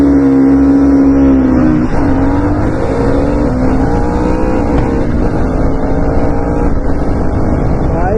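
Royal Enfield Guerrilla 450 and 2024 KTM Duke 250 motorcycles in a drag race, a loud sustained engine roar with rising and falling revs through gear changes, close and continuous throughout.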